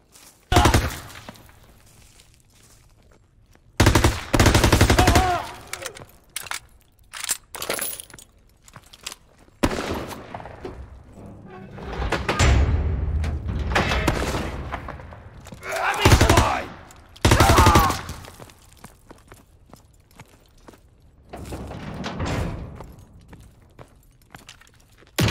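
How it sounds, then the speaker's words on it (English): Bursts of rapid gunfire from the video game Call of Duty: WWII break out in short volleys, loud and close, separated by quieter stretches with some voices under the shooting. "Gunfire."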